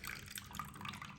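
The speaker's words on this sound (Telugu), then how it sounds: "ఫస్ట్ చింతపండు రసం గిన్నెలో వేసుకోవాలి." Tamarind juice poured into a bowl, a brief soft splash and trickle of liquid, faint and close, with no talk.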